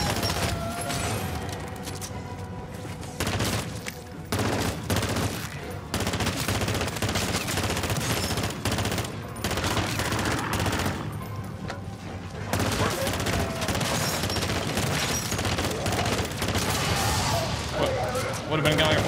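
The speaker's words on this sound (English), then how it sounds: "Shots here." Rapid automatic gunfire in MW3 Zombies, a video game, rattling in dense bursts nearly nonstop with brief pauses, loud and close, while a voice talks over it.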